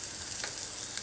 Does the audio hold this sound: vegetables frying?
yes